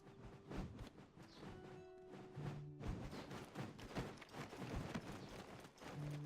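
A horse's hooves clip-clop steadily at a trot in the online role-playing game Black Desert Online, a quick continuous rhythm of hoof strikes heard up close with faint game tones underneath.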